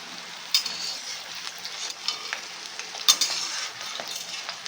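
Butterfly chicken frying in hot, spattering oil while being stirred: a steady airy sizzle carries intermittent spatula scrapes and a couple of sharper knocks, close by and without speech.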